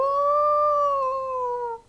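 A human voice imitates grey wolves howling with a single sustained, gently falling howl that carries clearly and alone before cutting off.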